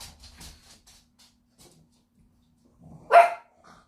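A single loud dog bark bursts out near the end after a few quiet indoor sounds, fairly close and alone.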